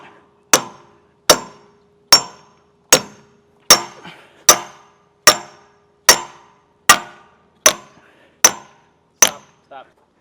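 Twelve sharp, ringing hammer strikes on metal while fitting a pin and bushings on a Caterpillar excavator, at a steady, unhurried pace, each blow loud and close with a quick metallic decay, followed by a fainter final tap.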